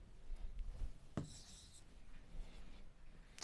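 A pen writes an accounting entry by hand on paper, a soft close scratching and rubbing with one sharper tap partway through, faint and steady.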